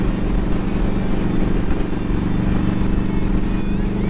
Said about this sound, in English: So I'm just gonna go park the bike